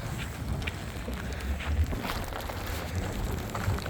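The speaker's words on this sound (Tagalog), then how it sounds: "Oh, lakas talaga ng hangin guys." Strong winter storm wind in snow buffets the microphone in a continuous low rush, with occasional heavier gusts and faint higher rustling, no one speaking.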